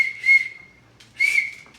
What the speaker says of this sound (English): okay, so it's not the loudest whistle in the world, but it's better than nothing.